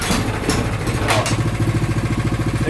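A warmed-up snow blower engine runs after a pull start, its throttle raised into a steady, close, pulsing putter that settles into an even rhythm, preceded by brief clatter.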